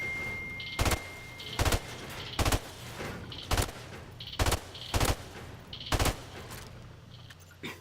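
Gunfire at the firing range in Call of Duty: sharp broadband shots fall roughly every second, six or seven single bursts over a steady low background hum, fairly loud and close with no talking.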